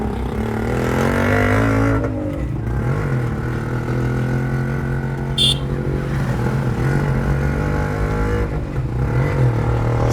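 A car drives along a rough road, its engine humming steadily close by throughout, with a brief louder burst midway and voices faintly under it.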